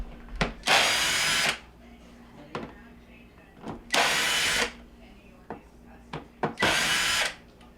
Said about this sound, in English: I'm going to remove the screws down the side of the front panel and along the top to take the unit out